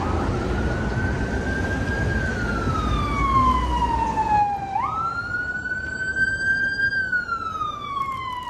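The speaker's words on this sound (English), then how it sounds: "Here comes an ambulance." An ambulance siren wails past on a street, a loud sweeping tone that slides down in pitch as it passes, then jumps and continues over steady traffic rumble, no talking.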